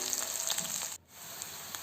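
Chopped green chillies fry in a pan with a soft, even sizzle that cuts out briefly partway through, heard alone.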